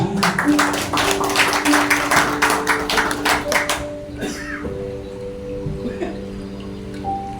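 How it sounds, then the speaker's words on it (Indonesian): Audience clapping at a company cooperative gathering, a busy burst of many hands for the first few seconds that fades out around the midpoint, leaving quieter room sound with tonal hum. "Ya kita beri tepuk tangan untuk Mbak Eka."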